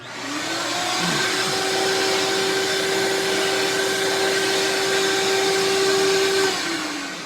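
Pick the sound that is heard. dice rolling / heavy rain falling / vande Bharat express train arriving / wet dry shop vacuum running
wet dry shop vacuum running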